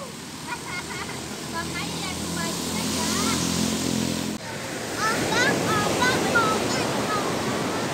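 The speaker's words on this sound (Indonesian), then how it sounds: "Pantai. Ombak. Ada ombak di sana ya." Broad surf noise of ocean waves on a beach rolls continuously, swelling louder in the second half, with voices talking in Indonesian over it.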